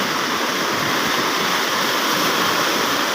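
A strong flooding river rushes past houses in a loud, constant roar of churning water close by, unbroken and without voices.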